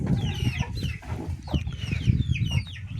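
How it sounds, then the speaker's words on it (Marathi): Several chickens clucking and squawking close by in quick, irregular bursts. "कोंबड्या"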